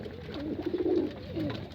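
Pigeons coo softly and repeatedly, a low throaty rolling call rising and falling, fairly close, with no talking.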